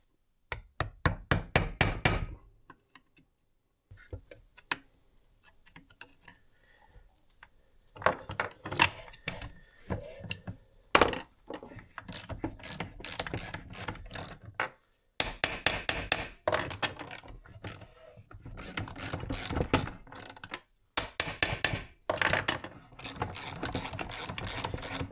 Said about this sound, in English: you can tap a screwdriver in.